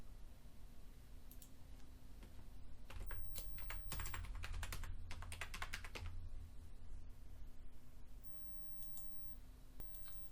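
Soft keystrokes on a computer keyboard arrive in a short quick cluster as a password is entered, faint and close over a steady low hum, with no one speaking.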